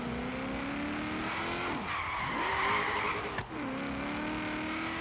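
A Ford SVT Mustang Cobra R driven in a video game, the engine note rising and falling through gear changes while tires skid and squeal loudly, alone with no talk.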